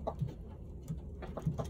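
Soft, scattered clucks from chickens close by, low and irregular, with faint rustling between them and no talking.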